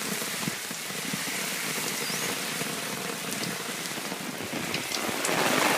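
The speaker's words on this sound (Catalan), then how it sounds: "La pluja es transforma en aiguat" A dense, steady roar of heavy rain pouring down without letup, loud and close, with faint rumbling beneath and no voices.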